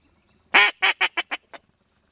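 Ducks quacking out in front of the blind during a teal hunt: six loud, close, raspy calls in a quick series that tapers off, with no talk over them.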